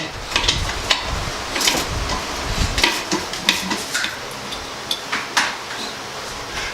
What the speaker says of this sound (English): I'm tightening these down using a small ratchet